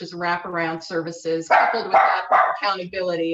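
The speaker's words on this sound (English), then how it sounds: "And I apologize for my dog." A dog barks several times in the background during a council meeting, sharp yips mixed in with a person speaking steadily in the foreground.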